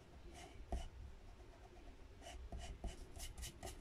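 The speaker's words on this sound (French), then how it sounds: "ce trait-là, du coup, vous pouvez le gommer" An eraser rubbing out a pencil line on paper while building a pop-up album page, faint short scrubbing strokes in a few quick bursts, close up in a quiet room.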